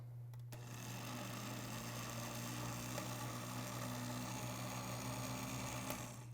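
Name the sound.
blender blending homemade bleu cheese dressing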